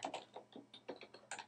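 Computer keyboard typing while text is entered into an editor, a quick uneven run of close, crisp key clicks played alone with no voices.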